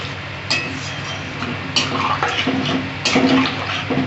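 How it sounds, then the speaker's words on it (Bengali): Water poured into a pot of Bengali fish curry, a continuous splashing, gurgling pour up close with a few louder surges and faint clinks. "এবার আমি পরিমাণ মতো জল দিয়ে দিচ্ছি।"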